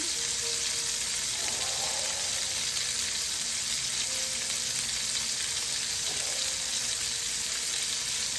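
Cod fillets fry in a pan for a Jamaican-style herb butter dish, giving a steady, even sizzle and crackle throughout with no talking.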